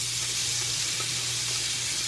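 Onions and peppers sizzle in a hot pan of oil and butter, a steady bright hiss that runs evenly throughout with no talking over it.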